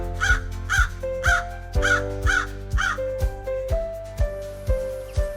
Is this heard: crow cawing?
yes